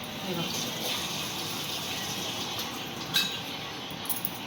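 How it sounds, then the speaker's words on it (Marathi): An Aquaguard water purifier runs and fills bottles with a steady, moderate rush of flowing water, with an occasional bottle clink near the end. "तर मी ॲक्वागार्ड चालू केलेलं आहे."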